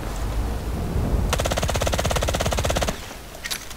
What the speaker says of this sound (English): So now we're gonna do hip fire full auto, see how that looks like.